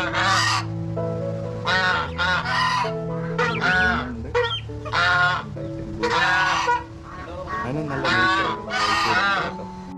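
Brahma chickens and their chicks at a farm make loud, close honking calls and clucks in repeated bursts, with several birds overlapping.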